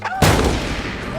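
A single gunshot, one sharp, loud blast with a booming tail that rings out for about a second, heard close up.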